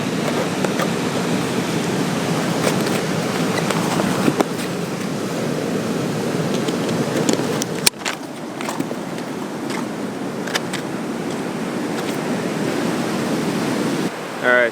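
Rough, turbulent surf stirred up by Hurricane Florence roars continuously at a beach, a loud broadband wash of breaking white water with gusty wind buffeting the microphone.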